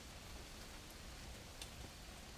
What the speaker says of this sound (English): I think it's pouring right now, actually.